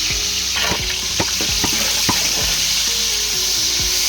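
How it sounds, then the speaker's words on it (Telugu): Two kilograms of onions sizzle in about a litre of hot oil in a large pot for a ten-kilogram batch of restaurant-style egg fried rice, a steady loud crackling hiss with repeated metal clanks from stirring. "మళ్ళా 2 కేజీలు ఎర్రగడ్డల్ని ఆయిల్లో వేసుకుందాం."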